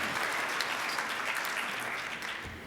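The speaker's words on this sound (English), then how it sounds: "Let's give our Rotarians a round of applause for the birthdays." Rotary club members applaud for birthdays at a meeting, a dense, steady wash of many hands clapping together in a room, moderately loud, fading slightly toward the end, with no one speaking.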